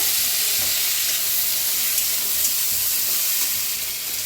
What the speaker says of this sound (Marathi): आता तेल ओतून भाजून घेऊया। तिकडे गवारी भाजून